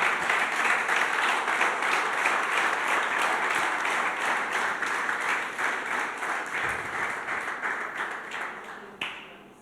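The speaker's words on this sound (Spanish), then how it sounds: "¿Por qué no le das tu mejor aplauso al Señor?" A church congregation applauds together, dense sustained clapping that fills the room and fades slightly toward the end, with no speech over it.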